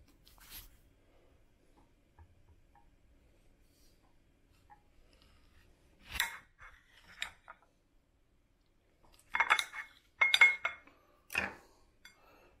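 A knife cuts a tomato in half on a hard surface, heard as a few sparse, faint clicks and soft taps with quiet gaps between them.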